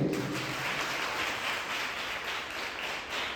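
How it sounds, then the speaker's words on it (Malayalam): Applause from delegates seated in a hall, a steady, moderately faint patter of clapping that stays even from start to finish without rising or stopping. "നല്ലൊരു കൈയടിയല്ലേ?"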